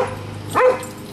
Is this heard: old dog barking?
yes